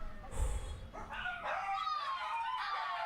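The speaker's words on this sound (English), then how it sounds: "Veel hond." Many dogs barking and yelping at once in a large kennel holding about 400 dogs, a dense overlapping chorus of yips and whines that is steady and fairly close throughout.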